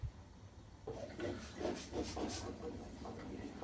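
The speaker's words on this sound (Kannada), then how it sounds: "ಇದು ಕುದೀತಾ ಇದೆ ಇವಾಗ ನೋಡ್ಬೋದು" Fenugreek rice bath (mentya bath) boiling in a pot under a plain, non-whistle lid, giving a steady soft hiss with bubbling pulses, fairly quiet and close.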